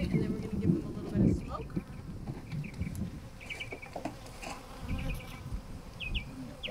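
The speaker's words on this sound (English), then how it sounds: "We're just gonna go ahead and shake out the last few bees here." Honey bees buzz and patter as the last few are shaken out of a box into a new hive, a soft, close, uneven hum with occasional knocks and thumps.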